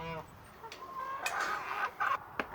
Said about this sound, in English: Come with us as we feed our chickens.